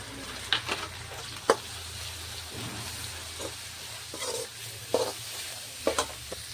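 Soft sizzling and stirring of onions, spices and coriander in a pan, with occasional scraping clinks of a utensil over a steady low hiss; no voices.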